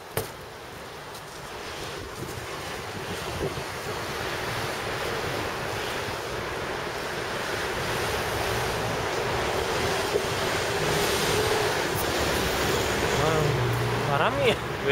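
Strong wind blows outdoors on a November afternoon, roaring steadily and buffeting the microphone, and it grows slightly louder over time.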